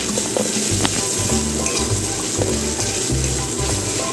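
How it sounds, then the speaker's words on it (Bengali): Garlic, onion and ginger paste frying in hot oil for a Bengali baby potato curry, giving a steady close sizzle with repeated scraping stirs throughout. "রসুন এবং পেঁয়াজ একসাথে ভাজতে হবে।"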